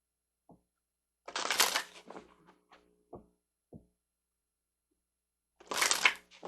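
Tarot cards shuffled and handled near and quiet: two bursts of riffling shuffles with a few soft taps and knocks between them, and no talking.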